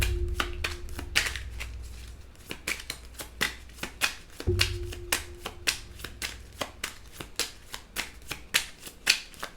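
Tarot cards are shuffled by hand: a rapid, steady run of crisp riffling and tapping strikes, close and fairly loud, continuing for several seconds with a faint hum in the background.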